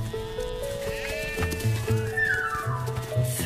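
Several sheep bleat over a background of tuneful music, the wavering cries rising and falling in a few short bursts.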